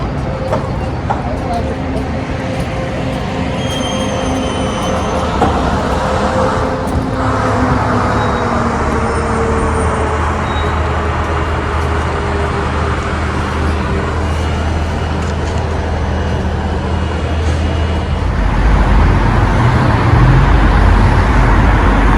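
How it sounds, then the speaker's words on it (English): Steady Los Angeles road traffic, a continuous broad roar of passing cars and vehicles with a low engine rumble that swells louder near the end, heard alone without talk. "this is Los Angeles traffic"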